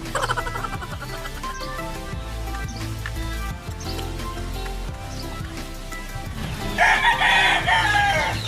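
A gamecock crows loudly near the end, one drawn-out call after several seconds of clucking fowl and farmyard noise, close by, with no talk.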